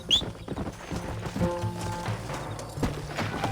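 A horse gallops with rapid rhythmic hoofbeats in the Red Dead Redemption video game in Mexico, the clip-clop close and clear, with a brief high whinny at the start and light game effects around it.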